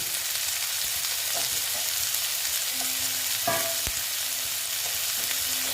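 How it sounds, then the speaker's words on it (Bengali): Small diced potatoes fry in a pan of oil for a ghugni, giving a steady, close sizzle with a few soft scrapes and taps of a spoon partway through. "আলুটা ভেজে নিচ্ছি"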